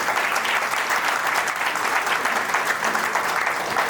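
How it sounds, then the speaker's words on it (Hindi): An audience seated in a meeting hall claps loudly and steadily. The dense, sustained applause fills the space with no break. "एक बार आप सभी लोगों के लिए जोरदार तालियां हो जाए।"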